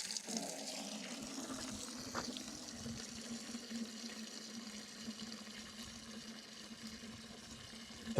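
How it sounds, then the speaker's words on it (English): Water runs steadily from a garden hose fed by a 500-gallon cistern through an on-off valve, a continuous faint splashing hiss into a bucket outdoors, with a few louder spatters. "500-gallon cistern, garden hose, on-off valve, and here we go"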